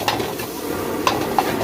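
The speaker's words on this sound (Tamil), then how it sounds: "ஆயில் சேர்த்து ரைஸை மிக்ஸ் பண்ணிக்கிறோம்." Egg fried rice stirred in oil in a pan at a village street food stall, a steady sizzle under a few sharp clinks of a metal utensil against the pan.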